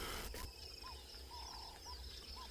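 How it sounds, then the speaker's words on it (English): Outdoor morning safari in South Africa: birds call in the background, with faint chirps and soft repeated dove-like coos from a turtle dove or ring-necked dove over a steady ambient hiss. "with all the birds chirping in the background. You can hear the turtle dove or ringneck dove"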